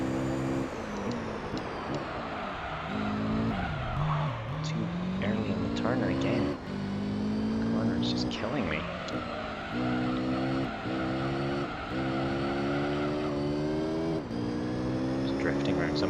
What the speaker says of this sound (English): drifting around some of these corners now. Oh, so little grip and so much oversteer.